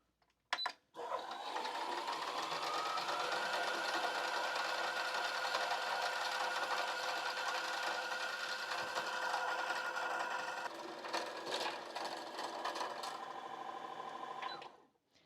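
A Brother Innov-is A150 sewing machine winds a bobbin with a steady, close whirring motor drone that runs unbroken for over ten seconds, shifts slightly near the end, then cuts off abruptly.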